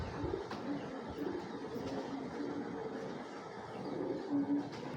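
Domestic flying pigeons kept for sport, several birds cooing softly in low repeated murmurs over a steady background hum, with no talking.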